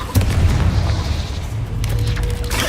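An Expelliarmus spell blast in Hogwarts Legacy hits as a heavy, sustained boom over a dense low rumble, loud and close within a brief burst of game combat sound.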